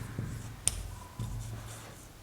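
Writing on a board during a physics lecture on electric current: a few faint, brief scratches and one sharp tap over a quiet room hum.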